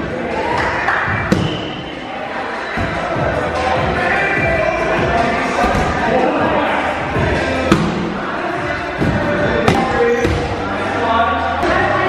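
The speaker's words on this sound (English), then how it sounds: "That's my elbow slamming against the wall." An elbow slamming against a wall during an indoor dodgeball match, one of several sharp thuds heard against a loud, constant backdrop of crowd cheering, ball bounces and people talking.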